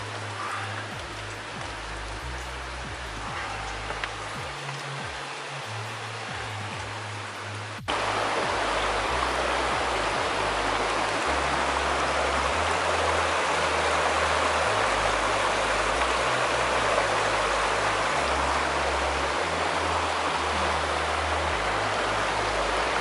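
Creek water flows steadily near an old coal mine site, a dense, continuous rushing wash that grows louder partway through and stays close and even to the end, with no voices.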